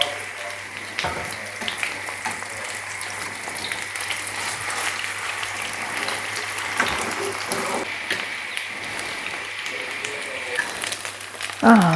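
Continuous sizzling of food frying in a pan at home, a steady close hiss with a constant low hum beneath and faint clatter, no voices.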